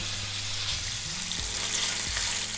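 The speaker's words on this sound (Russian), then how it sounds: "слегка обжариваем сосиски и охотничьи колбаски" Sausages and hunting sausages fry in aromatic oil in a pan, giving a steady, close sizzle with faint crackle throughout and no voices.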